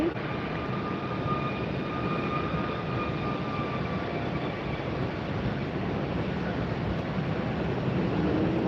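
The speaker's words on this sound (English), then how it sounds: "We've got Southwest Taxi." A Southwest airliner taxiing at Tampa airport on a very windy day, heard as a steady, continuous jet engine drone with faint whining tones, fairly distant and blended with wind noise, no talking.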